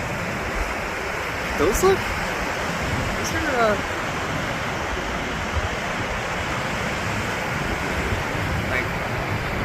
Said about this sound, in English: the waves today are actually pretty nice